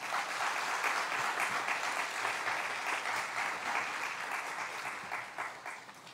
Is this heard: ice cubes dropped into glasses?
no